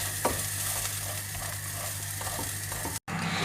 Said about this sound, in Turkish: Erişteler kızarana kadar böyle karıştırıyoruz arkadaşlar.